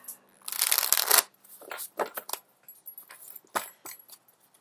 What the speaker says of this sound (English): As I'm shuffling, the card almost fell out.